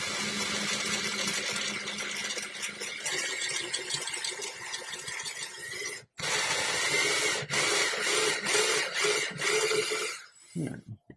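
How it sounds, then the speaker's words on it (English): A wobbling drill bores into a 1/4 scale resin model with a continuous buzzing whir. It cuts out abruptly near the middle, resumes at a steady pitch, then winds down at the end. "I don't know why my drill is wobbling."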